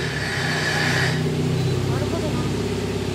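A Subaru WRX S4 fitted with an aftermarket muffler idles close up, a low, even burble with rhythmic pulsing, while a person talks over it.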